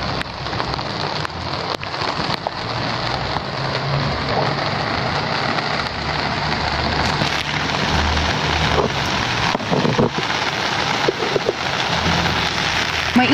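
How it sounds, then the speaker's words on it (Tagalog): Steady rain patters densely on a surface, a constant close hiss with scattered louder drops, no voices. "nakikita nyo na umuulan."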